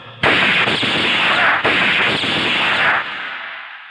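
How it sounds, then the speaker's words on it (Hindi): A loud, dense burst of gunfire shot into the air in a Hindi film scene erupts abruptly and roars on for about three seconds, with a sharp renewed blast midway, then cuts off into a fading tail. "ये गोलियां तो हवा में चली हैं"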